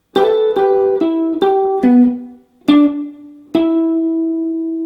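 Plucked acoustic guitar notes playing a song intro, seven clear ringing notes in a slow, uneven rhythm, the last ones left to sustain, played alone and close.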